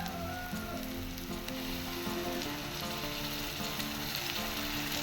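Chillies sizzling in hot oil for a Goan catfish ambot tik, a loud, dense, continuous crackle and hiss that stays steady close by with no talk.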